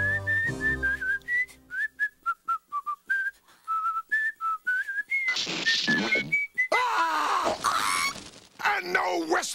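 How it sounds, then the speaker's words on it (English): A melodic whistled tune of short rising and falling notes, clear and close, followed by louder noisy bursts and a brief voice toward the end. "And no whistling!"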